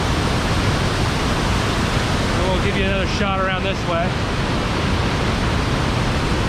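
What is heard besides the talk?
river water rushing through craggy rock at Great Falls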